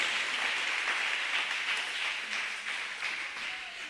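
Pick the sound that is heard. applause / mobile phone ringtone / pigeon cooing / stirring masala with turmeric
applause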